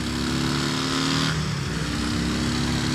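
A Harley-Davidson drag-style custom motorcycle at Motordays 2018 idles and revs with a deep, low-pitched rumble, the engine note shifting partway through, loud and close with no talking.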